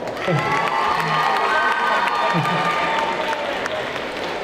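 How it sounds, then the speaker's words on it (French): A large crowd applauds steadily with cheers and shouts mixed in, a continuous dense wash of clapping. "On applaudit très très fort."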